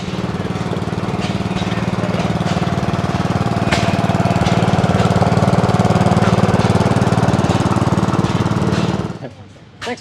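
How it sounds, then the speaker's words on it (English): Sears-made vintage tractor runs at a classic iron tractor show in Evansville, Indiana, its engine chugging steadily and loudly up close with a rapid knocking rhythm before abruptly cutting off near the end. "That tractor was made by Sears."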